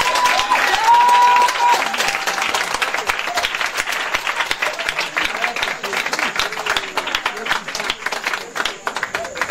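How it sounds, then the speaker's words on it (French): A church congregation applauds and cheers for Jesus, sustained dense clapping with crowd voices throughout, loudest at the start and staying steady to the end. "Est-ce qu'on peut acclamer Jésus?"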